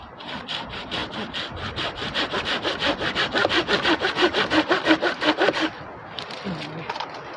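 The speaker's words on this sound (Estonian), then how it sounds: "siin tuleb saagida jah" A bent hand saw cutting through wood in steady rhythmic strokes, about twenty rasping back-and-forth pulls, close and loud. It stops abruptly, followed by a brief quiet tail with a faint knock.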